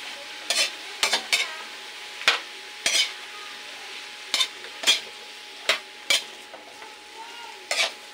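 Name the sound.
sautéing bottle gourd with onion and garlic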